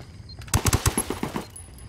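Automatic gunfire in the video game Ghost Recon Wildlands, a quick burst of about a half-dozen sharp shots fired in rapid succession, fairly close and without talk.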